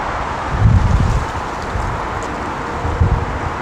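Steady outdoor wind roaring and buffeting against the microphone in a garden, with low rumbling gusts swelling twice, no speech.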